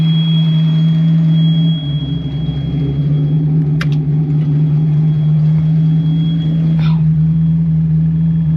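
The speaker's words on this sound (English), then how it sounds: "The old AC compressor's on, running like a champ." An old 1988 Mustang GT 5.0 idles with its AC compressor running, a steady, loud low engine drone with a thin constant whine above it and a couple of brief clicks, heard alone.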